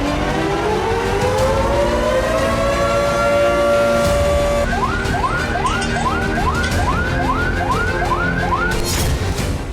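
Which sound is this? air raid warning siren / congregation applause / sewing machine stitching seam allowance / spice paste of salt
air raid warning siren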